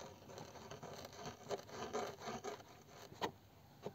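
A knife carving a wooden board on a table at a woodcarving workshop: quiet, repeated scraping and rasping strokes in an uneven rhythm, close by, with no talk.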